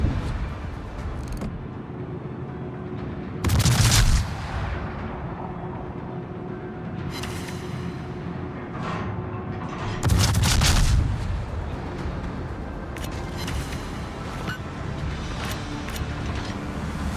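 Two heavy salvos from warship guns in World of Warships, fired at rocks, each a loud booming blast several seconds apart over a constant engine-like rumble, with smaller sharp reports scattered between.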